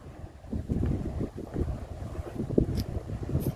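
Cool wind gusts across the microphone at a waterside pagoda set in the water, rumbling in uneven bursts that rise and fall over a few seconds, with no voices.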